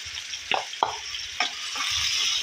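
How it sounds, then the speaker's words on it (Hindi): Onions hitting hot oil for daal mash, a steady bright sizzle with a few sharp spatters and utensil taps spaced through the short stretch, close and moderately loud with no talking. "ऑयल को थोड़ा गर्म कर लें। हाँ, गर्म हो चुका है। इसके अंदर हम सबसे पहले प्याज को ऐड करेंगे"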